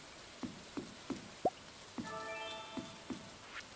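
Rain falling in an autumn farming video game, heard as quiet, evenly spaced drips and soft plops over a faint hiss, with no voices.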